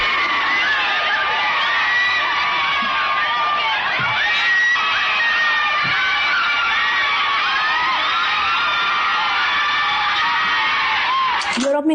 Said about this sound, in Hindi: यकीन न हो तो ये चिल्लाने की आवाजें सुन लीजिए।